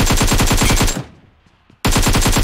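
Gunfire in the mobile battle royale game BGMI rattles loudly in rapid, evenly spaced shots, breaks off for nearly a second of near silence, then resumes just as fast.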